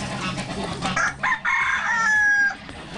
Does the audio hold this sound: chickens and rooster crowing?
yes